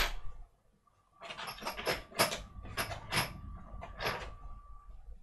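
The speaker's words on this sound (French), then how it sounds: "Donc là, on va visser." Screw being driven into a PlayStation 5 console, heard as a run of close, dry ratcheting and clicking bursts in an irregular rhythm with a faint steady tone underneath, following a brief quiet pause.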